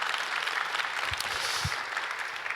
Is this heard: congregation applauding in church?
yes